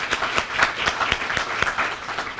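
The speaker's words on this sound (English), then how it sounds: "Would you please give them a round of applause for the wonderful breakfast?" A room of annual-meeting attendees at a resort breakfast claps for the catering, a full burst of applause with individual claps standing out in a quick, fairly loud rhythm, no talking.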